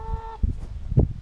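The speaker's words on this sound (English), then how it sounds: "they're the friendliest chickens I've ever met" Friendly farmyard chickens give a few short, close clucks and squawks in quick succession over soft outdoor background noise.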